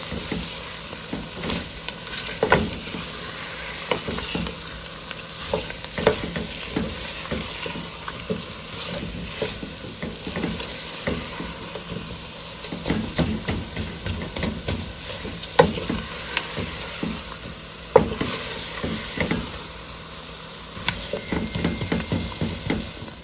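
Frozen okra cooks in a pot for cook-up rice with smoked herring, giving a long, steady close sizzle and crackle with occasional stirring scrapes and clanks, and no voices.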